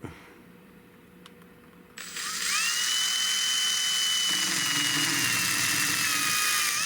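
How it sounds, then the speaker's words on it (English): After a couple of seconds of quiet, a high-pitched drill whirs up and bites into metal on a .410 garden gun, a loud, steady whine with a shifting tone as it cuts. "at least drill that hole"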